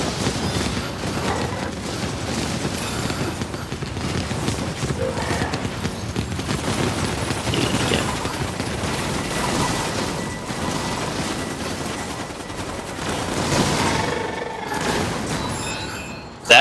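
Mine gun firing in the LiveLock video game, dense continuous blasts and booming impacts under a busy game mix, loud and sustained throughout.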